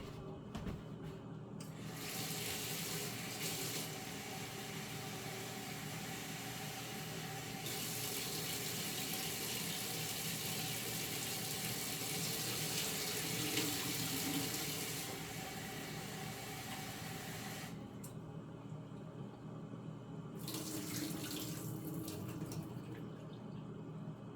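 Tap water runs into a bowl as salad is rinsed, a close, steady splashing gush with a brief pause partway through and a couple of short bursts near the end, no talking.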